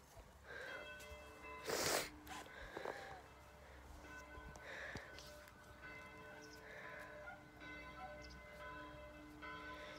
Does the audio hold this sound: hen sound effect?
no